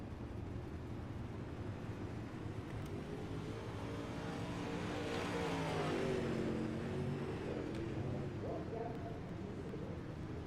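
UMP Modified race car engines running in the iRacing video game, a steady engine drone that swells to a rising rev near the middle, quiet and heard alone.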